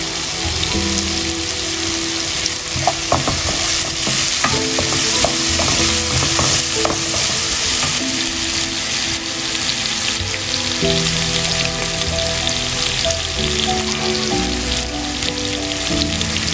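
Rava (semolina) dry-frying in a pan for upma, a steady close sizzle with constant scraping and stirring strokes throughout, no talk.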